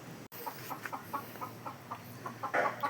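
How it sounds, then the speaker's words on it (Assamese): Chickens clucking in a village poultry yard, a steady run of short repeated clucks at close range with a louder burst near the end, no talking. "কি কৰি আছে কুকুৰা চৰাই"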